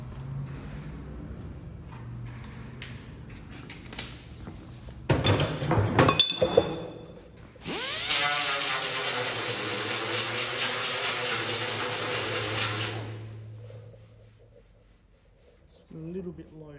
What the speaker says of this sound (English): I might just get my little roll lock sander